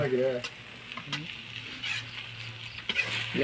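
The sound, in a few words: potatoes frying in a pan for noodles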